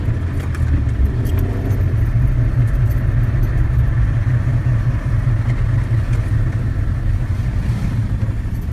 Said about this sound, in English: you're hearing me drive